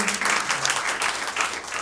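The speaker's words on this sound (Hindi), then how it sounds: "इनके लिए ताली बजाओ यार" Audience applause at a stand-up comedy show, a steady burst of many hands clapping at close range for nearly two seconds, with faint traces of voices underneath.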